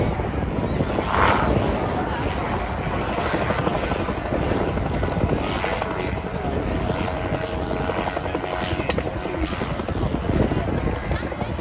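An autogyro with an enclosed cockpit flies at an air show, its propeller engine giving a steady, loud drone with a rough buzzing texture that holds throughout.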